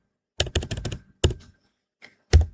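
Quick clicking keystrokes on a computer keyboard as a command is typed into a network switch console, a short burst of taps followed by a few isolated key presses, close and clear with no talking.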